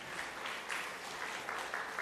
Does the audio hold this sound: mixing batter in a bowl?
no